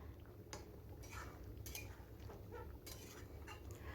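A metal spatula stirs and scrapes potato and pointed gourd korma in a pan, making faint, irregular clinks and scrapes over a low background hum.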